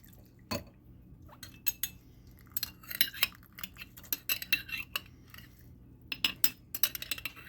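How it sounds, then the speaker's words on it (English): Soaked redbud blossoms strained into a small bowl in a kitchen: scattered clinks of a utensil against dishware with light liquid trickles and drips, one sharp knock early, fairly quiet and close, no talking. "Now you take these here red buds and you strain them. And we're going to strain them to this little bowl here"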